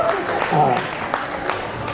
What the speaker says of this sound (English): I'm getting more cheap applause.